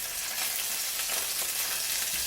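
Tomatoes hit hot oil with garlic for pasta e fagioli, setting off a loud, steady, close sizzle that crackles evenly throughout with no talking.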